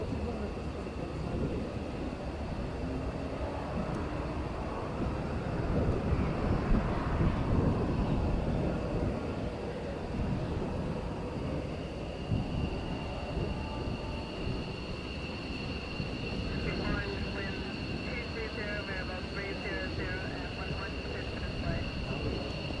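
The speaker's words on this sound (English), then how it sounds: "watch this takeoff" Aircraft taking off at the 2001 Mildenhall air show, a broad sustained engine roar that swells midway and stays loud throughout, with steady high tones and talk faintly mixed in.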